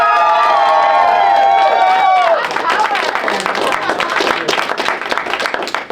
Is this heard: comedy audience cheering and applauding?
yes